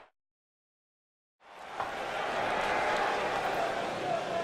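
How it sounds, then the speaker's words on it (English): A wrestling arena crowd in the WWE 2K19 video game chants for The Undertaker, a dense, steady roar that swells in after a moment of silence and holds loud to the end. "The crowd chanting for The Undertaker."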